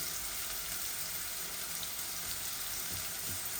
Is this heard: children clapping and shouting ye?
no